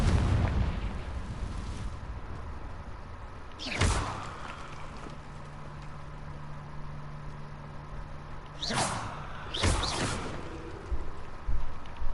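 Confringo blasting-spell explosions in Hogwarts Legacy, three sharp booming bursts spread across the stretch, the last two close together, over a steady low background hum with no talking.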